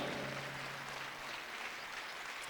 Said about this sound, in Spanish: Póngase de pie y denles un aplauso fuerte a ellos, porque esos merecen honra.